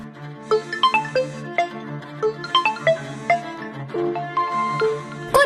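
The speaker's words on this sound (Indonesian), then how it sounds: "Kok ada ringtone HP pacarku dari kamar pembantu?" A phone ringtone plays a bright, plucked melodic tune, notes repeating in a looping phrase at a steady, moderate volume.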